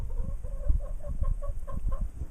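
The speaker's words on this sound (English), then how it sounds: "here's my chicken" A pet chicken clucks close by in a steady series of short, rhythmic clucks over a low, rumbling background.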